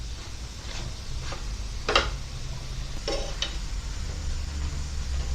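Small Sri Lankan pol roti cook on a pan with a low, steady sizzle, broken by a few sharp scraping clicks as they are turned.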